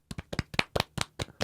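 Hands clap about a dozen times in a quick, slightly uneven rhythm, close and crisp, with no other sound around them.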